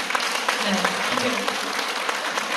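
A crowd claps steadily in a brief burst of applause at an outdoor community residents' assembly, with voices mixed in underneath.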